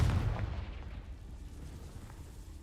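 A Confringo fire spell blasts in Hogwarts Legacy, a deep booming rumble that is loudest at the start and then rolls on as a low, muffled roar before a sharp burst at the very end.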